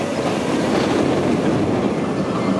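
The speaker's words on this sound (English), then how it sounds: "Let's see if I can get a shot of Mine Train as it rolls by." The Mine Train roller coaster at Magic Kingdom rumbles past nearby as a cart rolls along the track, a steady, loud roar of wheels and rushing noise with no talking.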